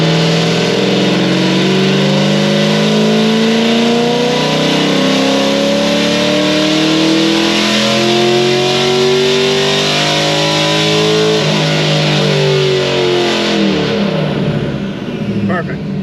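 Cammed car engine revving hard through a dyno pull, a loud sustained roar that climbs steadily in pitch for over ten seconds before dropping away at the end.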